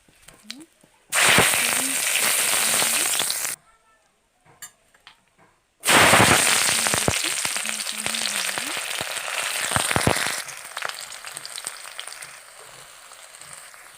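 Loud, crackling sizzle as three chillies hit hot oil with panch phoron, fading briefly, then a second burst of intense spattering frying that gradually settles into a softer sizzle.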